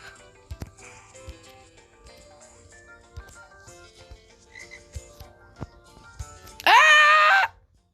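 A frog croaks once in the video game Fancy Pants Adventures 2, a short loud rasping call near the end, after a stretch of soft game music and scattered light thumps and taps.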